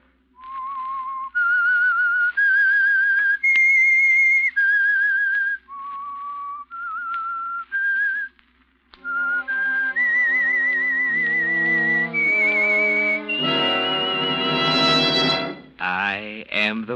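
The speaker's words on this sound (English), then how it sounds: "That whistle is your signal for the Signal Oil Program" A whistled theme signal for The Whistler, the 1945 Signal Oil radio program: a loud, clear melody of long sustained notes that climbs step by step, with the later notes growing fuller and richer.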